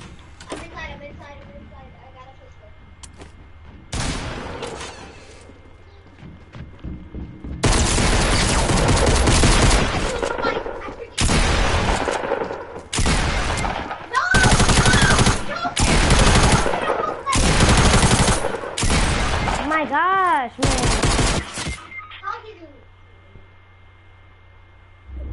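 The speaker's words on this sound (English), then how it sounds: "Whoa, he had a shotgun." Loud shotgun blasts and rapid gunfire in a video game, arriving in several long, heavy bursts separated by brief pauses, with voices talking in the quieter gaps.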